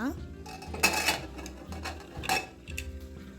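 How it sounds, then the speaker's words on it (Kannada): A pressure cooker lid is opened after cooking avarekalu pulao, producing a few sharp metallic clanks and scrapes of metal on metal, close by, with a faint voice in the background. "ಕುಕ್ಕರ್ನ ಪ್ರೆಷರ್ ಇಳಿದ ನಂತರ ನಾವು ಮುಚ್ಚಳವನ್ನು ಓಪನ್ ಮಾಡಿ ನೋಡೋಣ ಪಲಾವ್ ಹೇಗಾಗಿದೆ ಅಂತ."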